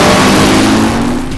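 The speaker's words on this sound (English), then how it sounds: "There is something fundamentally exciting about spinning tires, blue smoke, and roaring engines." A drag racing car's engine roars loudly and close at a nighttime drag strip, a brief sustained blast that fades slightly at the end.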